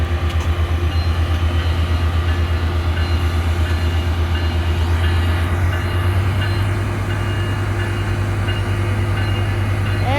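A Metrolink commuter train pulls out of Tustin station in California with a loud, steady low engine rumble and droning rolling noise that carries on without a break.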